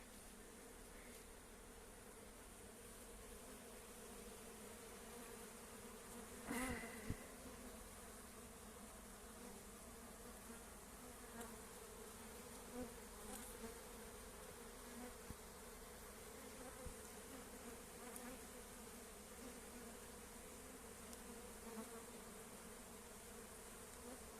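A strong honey bee colony at a friend's apiary gives off a dense, steady buzzing drone that fills the whole stretch at an even level, with an occasional louder bee passing close and no talk.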